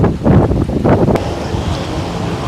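Strong wind gusts buffet the microphone on a golf course, a loud, rough rumble that builds and swirls through the first second, then settles into a steady, slightly softer roar.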